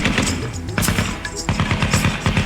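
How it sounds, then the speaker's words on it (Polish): Rapid bursts of gunfire crack loudly and repeatedly, dense volleys overlapping with thuds in a chaotic, close barrage. "Słychać strzały, płoną budynki."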